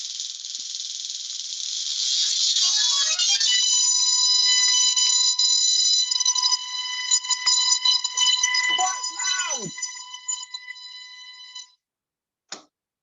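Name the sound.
million-volt spark machine producing huge electric sparks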